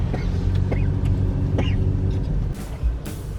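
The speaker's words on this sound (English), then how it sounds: "That car is so close right now." A car goes by close on a Sydney street, a broad steady rumble of engine and tyre noise over busy traffic, easing off near the end with no talk.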